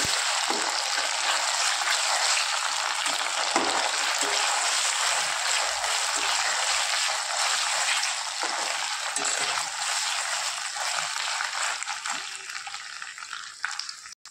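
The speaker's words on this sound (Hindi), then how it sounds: "आलं लसणाची पेस्ट छान फ्राय झाली आहे" Ginger garlic paste fries in a pan with onions for a chicken bhuna masala, giving a steady, loud, close sizzle that carries on unbroken and alone, easing slightly near the end.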